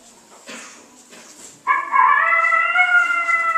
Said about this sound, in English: Wait for the bark.